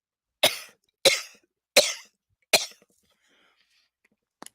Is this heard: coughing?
yes